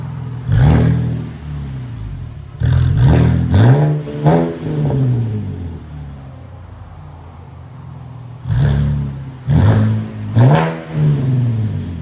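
A 2013 Cadillac ATS with a 3.6L V6, X-pipe and straight pipes revs loudly in sharp bursts. Each blip climbs and falls away, with quiet idle gaps between the groups of revs.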